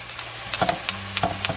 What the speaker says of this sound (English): at this time, I'm going to add my garlic in here